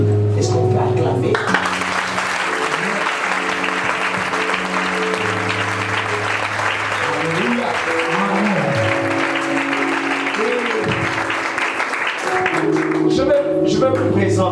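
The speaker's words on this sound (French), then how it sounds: "Est-ce qu'on peut acclamer?" A church congregation breaks into sustained applause during a Sunday service, a dense wash of clapping that lasts throughout, mixed with a steady musical drone and a voice talking over it.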